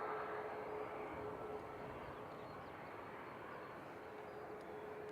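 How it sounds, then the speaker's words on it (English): A Ryanair jet departs Manchester Airport, its engine roar a steady, distant broadband rumble that holds evenly throughout. "It's Ryanair departing."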